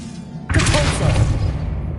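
A Repulsor spell in a Harry Potter video game bursts out suddenly after a short lull, a forceful whooshing thump that hangs for about a second and then tails off into a lingering rumble.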